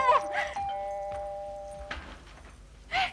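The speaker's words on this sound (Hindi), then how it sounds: "इतनी घंटी कौन बजा रहा है?" A doorbell gives a ding-dong chime indoors, a sustained ringing tone that lasts over a second. Faint voices and light knocks can be heard around it.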